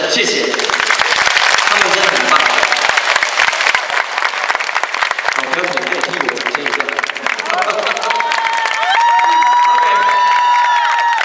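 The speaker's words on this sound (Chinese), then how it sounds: "所以请大家给予这些朋友们再一次更大的掌声" Sustained, loud applause with scattered cheers from a concert audience honouring visually impaired musicians, dense clapping rolling on for several seconds before instruments start playing underneath near the end.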